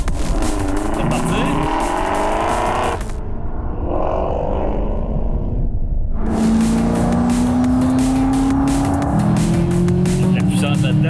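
A 650 hp Chevrolet Camaro ZL1 on a military airfield track, heard from inside as the engine roars under hard acceleration, drops out briefly, then climbs again with rising revs while someone talks excitedly over it.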